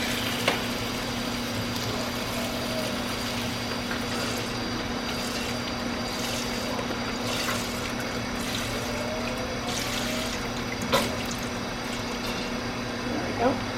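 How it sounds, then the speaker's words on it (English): Canned Campbell's no-salt-added beef broth pours into a stew pot in a steady, unbroken trickling stream, fairly quiet and close, with a couple of soft knocks. "what I'm going to do is I'm just going to add some beef broth"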